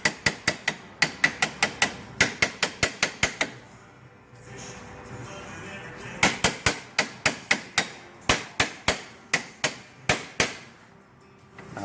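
Sharp metallic hammer blows ring out in fast bursts of about a dozen strikes each, separated by short pauses, while the inner tie rod of a 2003 Dodge Grand Caravan is knocked loose, loud and close.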